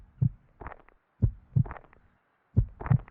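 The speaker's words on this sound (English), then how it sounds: "you hear your heartbeat" Low-health heartbeat effect in the video game The Outlands 2: deep, muffled lub-dub thumps repeat about once per second, isolated against silence.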